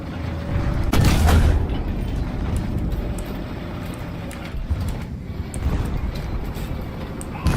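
Tanks trading cannon fire in War Thunder: one heavy boom near the start, followed by a rumbling engine and battlefield drone with fainter distant thuds, loud and continuous with no voices.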